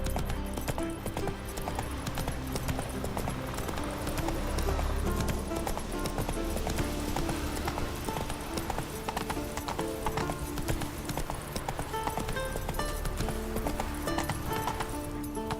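Hooves clip-clop steadily as a horse gallops and runs in a video game, with a whinny rising partway through, all set over continuous game music and ambient sound.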